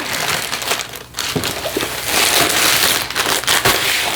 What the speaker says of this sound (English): we have the protective plastic bag, which does keep the dust away